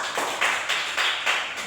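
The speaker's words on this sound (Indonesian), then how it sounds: "Tepuk tangan dulu Alvaro." Students in a classroom clap their hands in short, loud bursts that come in quick succession and fill the room, with no voices heard over them.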